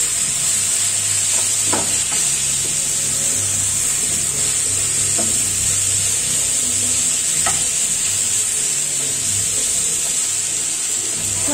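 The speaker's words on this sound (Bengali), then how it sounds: "শাকটা ভাজা হয়ে গিয়েছে, নামিয়ে নিয়েছি দেখো" Leafy greens fry in oil in a pan, with a loud, steady hiss and sizzle throughout and a few faint stirring knocks.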